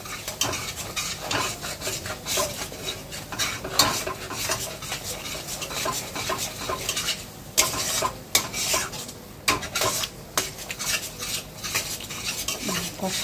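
A spice mixture is stirred in a cooking pan over a gas flame, with a busy, continuous scraping and clinking of a spoon against metal over a light sizzle.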